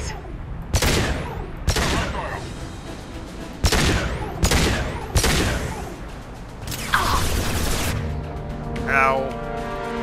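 Gunfire from Blue Suns mercenaries and Vorcha in the video game Mass Effect 2, a series of loud, sharp shots at irregular intervals with booming tails, a voice heard briefly amid the firing.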